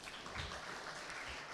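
Audience at a medtech hackathon event in Uganda clapping, a brief, faint and muffled patter of hands heard from a distance.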